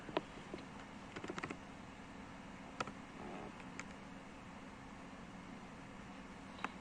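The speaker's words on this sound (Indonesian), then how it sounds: "Kita ketikkan get bootstrap." Sparse, faint keystrokes on a computer keyboard, a few scattered clicks and a short burst over a steady background hiss.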